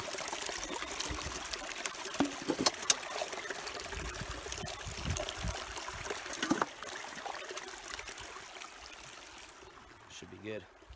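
Water trickles and pours steadily at a creek as a bottle is filled along the Alexandra River trail in Banff, a continuous close babble with occasional splashes, and voices speak faintly in the background.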